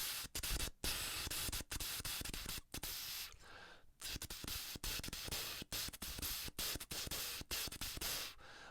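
A trombonist demonstrates hard ghosted articulation without the instrument, using only tongue and air, making rapid breathy, hissy puffs with short stops between them. The puffs are close and quiet, come in an irregular run, and there is no talk.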